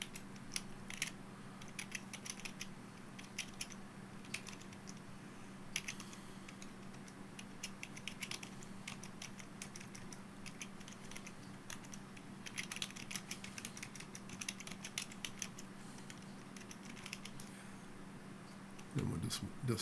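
Typing on a computer keyboard while setting up Ubuntu Desktop 20.10 on a Raspberry Pi 4: faint, irregular runs of close key clicks with short pauses, over a low steady hum.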